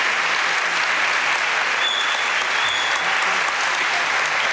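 A concert audience applauds a symphony orchestra in a dense, steady burst of clapping that fills the hall with no voices on top.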